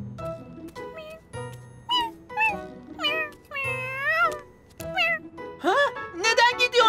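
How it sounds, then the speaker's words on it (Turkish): A cartoon cat gives a string of rising and falling meows, some short and some drawn out, mixed with character voices in a children's animated show about little buses. "Bak, kedi bir şey almaya gelmiş."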